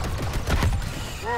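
Blaster fire in a space combat video game, with shots hitting a ship's rear deflector, crackles in a quick rapid volley amid voices and chaotic game sounds, ending on a brief warbling electronic tone.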